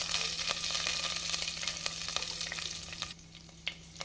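Chopped green chillies fry in hot ghee and oil with cinnamon and cloves while making ghee rice, giving a steady close sizzle broken by occasional light scrapes and taps of stirring.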